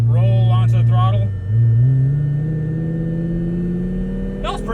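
A cheap Lamborghini pulls away from a stop sign, its engine note rising steadily in pitch as it gains speed. Someone talks over the start of the acceleration.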